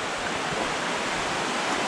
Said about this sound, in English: So this is Comey Creek Falls.